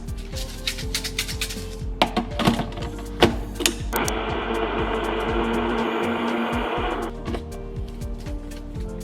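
A kitchen blender whirs steadily for a few seconds as dry baking ingredients are blended, preceded and followed by sharp clicks and taps of handling.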